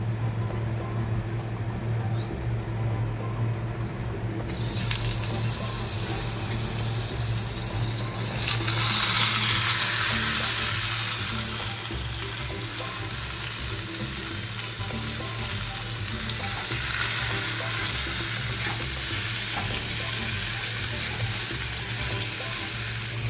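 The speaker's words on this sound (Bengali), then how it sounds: "কড়াইয়ে তেল দিয়ে দিয়েছি, 5 ফোড়নও দিয়ে দিয়েছি। এবার দিয়ে দেবো ঝিঙে আর আলু।" Ridge gourd and potato drop into hot oil seasoned with five-spice in a wok, and a loud, steady sizzle fills the kitchen, rising sharply after a quieter start and holding on throughout.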